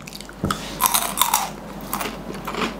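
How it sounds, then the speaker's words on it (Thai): Someone chews a crispy fried yardlong bean snack, with several loud, close crunching bites in an irregular rhythm followed by softer chewing. "เคี้ยวแล้วกรึบๆนะคะแล้วก็แบบว่าไม่ได้เหม็นเขียวด้วย"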